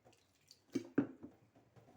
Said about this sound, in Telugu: ఈ పాట్లో నేను వాటర్ పోస్తున్నాను